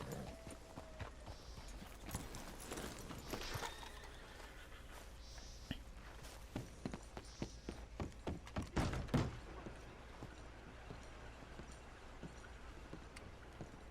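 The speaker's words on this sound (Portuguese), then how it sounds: "O cavalo destruiu a cerquinha." Horse hooves clip-clopping and thudding in Red Dead Redemption 2 as the horse smashes through a small fence, a run of hoof beats with a heavier crunch of impacts near the middle, over steady ambient outdoor noise.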